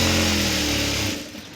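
A sewing machine runs steadily while stitching a blouse seam from start to end, a continuous loud motor whir that stops abruptly near the end, leaving quiet room noise.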